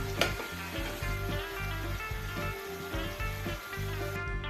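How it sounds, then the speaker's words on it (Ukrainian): Pork-filled chebureks frying in a pan of oil, a steady close sizzle and crackle with faint scraping from spatulas turning them. "І обсмажуємо з іншої сторони."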